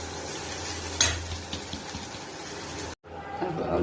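Flattened rice (chira) is poured into a pan of browned potatoes frying with green chilli and salt, giving a steady sizzle with scraping, stirring clatter and one sharp knock before a brief cut.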